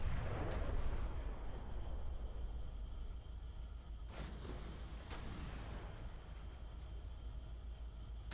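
Heavy naval guns from warships boom in the ShipCrafter game, a few sharp blasts spaced over a low rumbling battle ambience.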